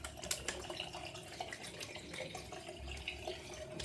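Razor rinsed under a running tap, a steady faint gush of water with small splashes and clinks of metal against the stream during a wet shave with a Gillette G2000.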